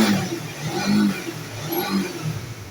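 A Honda CBR150 motorcycle engine runs steadily after a starter repair at a workshop, giving a loud, close, continuous drone that rises and falls gently in gentle revs, with no voices.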